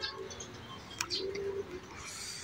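A racing pigeon circles over a loft in Bulacan during training, a soft bird call and brief chirps heard faintly against steady outdoor background noise.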